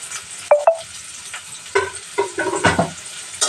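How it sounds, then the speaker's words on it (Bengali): Chopped onion hitting hot oil in a wok gives sudden loud sizzling bursts, followed by scraping stirring strokes and an uneven crackle close by. "এখন কিন্তু আমি এই যে পেঁয়াজটা কেটে রেখেছি সেটাকে দিয়ে দিচ্ছি"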